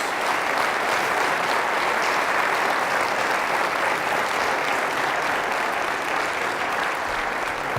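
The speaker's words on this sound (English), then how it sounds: "And I want to give Chief Pape and Captain Wilson and his team a round of applause, along with the county, for doing this." Sustained audience applause at a city's annual state-of-the-city address, steady and dense clapping filling the hall throughout without a break.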